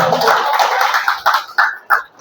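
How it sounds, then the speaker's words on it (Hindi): Applause for Sunny at a Meerut poetry and storytelling gathering, a dense burst of clapping from the audience that thins out into a few separate claps and fades away. "तो सबसे पहले सनी जी के लिए जोरदार तालियां हो जाए।"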